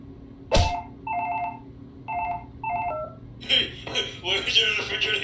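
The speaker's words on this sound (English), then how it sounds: "a bunch of fake phone numbers just call you" Tone sequence from a phone in a WarioWare-style captcha game, beeping in short evenly spaced bursts before giving way to a louder, busier jumble of sounds near the end.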